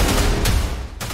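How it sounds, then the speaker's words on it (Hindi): Diwali firecrackers going off in a city, a dense, loud crackling burst of rapid explosions with a couple of sharper bangs. "कानपुर में भी जमकर आतिशबाजी हुई"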